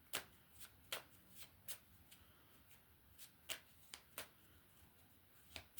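Tarot cards being shuffled and drawn by hand, a quiet, close series of sharp riffling snaps and flicks arriving in an irregular rhythm, about a dozen distinct card hits with soft hiss between them and no talking.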